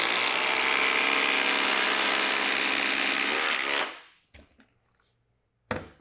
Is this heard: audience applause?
no